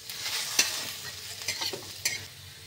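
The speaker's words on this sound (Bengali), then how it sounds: "5 ফোড়নটা ভাজা হয়ে গেছে, মিশিয়ে নিচ্ছি" Panch phoron whole spices fry in hot oil while being stirred, producing a steady faint sizzle with several light scraping stir strokes and small clicks and no voices.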